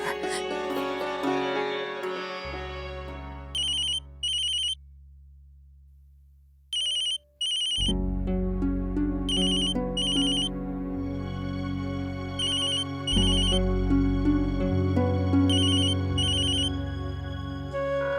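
A melodic electronic ringtone plays loudly and repeatedly, with a brief pause before the tune resumes and continues steadily.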